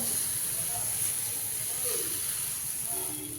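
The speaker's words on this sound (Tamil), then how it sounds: "சின்னதாக மெலிசாக ஊற்றிக்கலாம் மாவு." Bottle gourd dosa batter is spread thin on a hot pan, giving a constant, even hiss of sizzling that stays steady and close the whole time.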